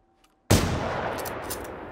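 A single sharp gunshot in the robot-hunting shooter Generation Zero, a sudden loud crack after near silence that decays into a long rolling echo.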